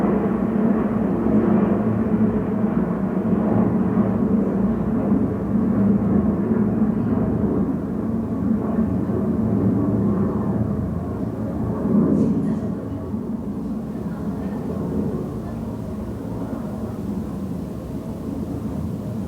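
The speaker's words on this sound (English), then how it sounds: "I knew that airplane was just going to get louder and louder and louder" A low, steady rumble of an airplane passing overhead, broad and sustained throughout, holding fairly level before easing slightly toward the end, with no speech over it.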